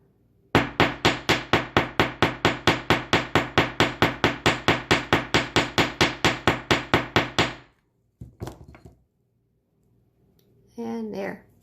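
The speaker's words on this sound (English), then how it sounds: "just flip it over and hammer again." About thirty rapid, even hammer blows ring out on a wire star earring piece in a jewelry-making workshop, sharp and close, then stop, followed by a couple of faint knocks and a brief voice.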